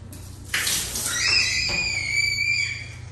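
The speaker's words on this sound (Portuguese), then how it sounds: "Já tô lavando aqui, ó. Já joguei água aqui" Water splashes and sloshes while a moldy shower stall is washed by hand, with a loud burst of spray followed by squeaky, streaming water close by.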